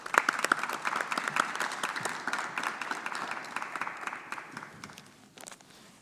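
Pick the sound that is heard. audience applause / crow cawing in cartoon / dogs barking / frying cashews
audience applause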